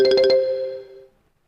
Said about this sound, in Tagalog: Nag-alarm ang cellphone ni Frin.